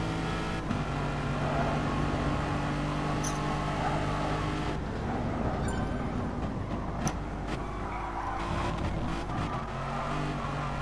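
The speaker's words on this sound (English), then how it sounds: "It is a very beautiful sounding car indeed" Lexus Group B race car engine in the GT Sport racing game at the Alsace Village circuit, a steady, sustained engine drone with shifting pitch, heard continuously and loud with no talk.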